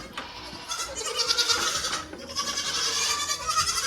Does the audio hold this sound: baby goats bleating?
yes